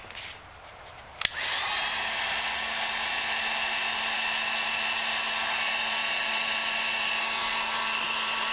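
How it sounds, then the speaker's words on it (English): A heat gun warms the tip of a plastic piece for forming around an OtterBox phone case, clicking on and then blowing with a loud, steady whooshing roar that holds for several seconds. "we're going to take the heat gun again"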